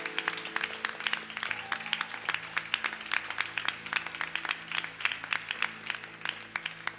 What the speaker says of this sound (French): Acclamons encore pour le Seigneur.